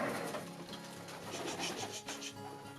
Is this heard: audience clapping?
no